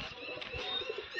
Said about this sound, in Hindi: ये कबूतर देखे क्या कर रहा है यार